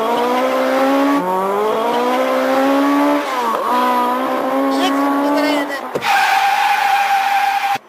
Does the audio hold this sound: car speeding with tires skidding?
yes